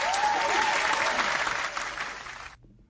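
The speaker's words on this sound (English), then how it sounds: "Let's give her a round of applause for that." A studio audience gives a dense round of applause on a basketball talk podcast show, steady and full for over two seconds before cutting off abruptly.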